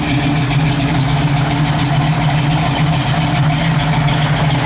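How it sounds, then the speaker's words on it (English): A 1967 Chevrolet Camaro RS/SS idles loudly up close with a deep, steady rumble and an even lumpy pulse that stays unchanged throughout. "Car's so loud."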